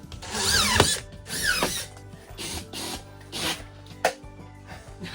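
A power drill driving screws into wall sheeting on a house under construction, several short rising whirring bursts with pauses between, close and clear, no voices.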